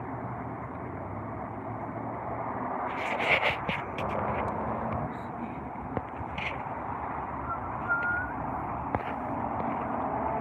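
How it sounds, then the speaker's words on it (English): Street traffic noise, a steady rumble of passing cars with occasional brief clicks and sharp bursts, no talk. "I'm trying to get out this traffic so y'all can hear me better."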